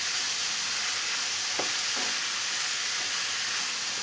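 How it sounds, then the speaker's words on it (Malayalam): Onions sauté in a pan toward golden brown, giving a loud, constant hissing sizzle from start to finish with a couple of brief stirring scrapes in the middle. "സവാള എല്ലാം ഗോൾഡൻ ബ്രൗൺ കളറാവുന്നവരെ നന്നായി തന്നെ ഇതൊന്ന് വഴറ്റിയെടുക്കണം"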